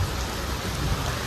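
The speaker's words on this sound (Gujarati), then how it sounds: "વરસાદ તો 10 દિવસથી લગાતાર ચાલુ હોય" Heavy rain falls during a spell of monsoon days, a dense steady wash of noise with a low rumbling undertone, brief and continuous with no voices.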